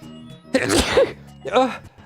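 A person sneezes twice during a video game commentary session: a sharp, loud burst followed by a second, shorter one about a second later, close to the microphone with a little voice around them.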